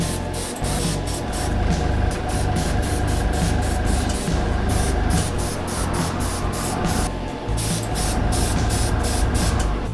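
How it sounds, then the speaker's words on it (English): An airbrush sprays flat colour paint onto a lightsaber prop, a steady close hiss running throughout with a faint pulsing flutter, loud and continuous with no talk. "Now I'm still very new to airbrushing, but filling in these sections with flat colour is great practice and a good way to experiment with different paints."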